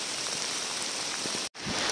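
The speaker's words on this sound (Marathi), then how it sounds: "खूप जोराचा पाऊस आलेला आहे" Heavy rain pours down steadily outdoors, a dense continuous hiss of falling water close by, with one brief dropout near the end and no voices.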